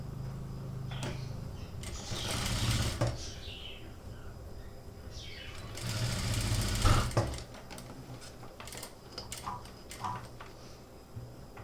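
A sewing machine stitches the neck of a net blouse in two loud whirring runs, separated by quieter handling and faint chirps.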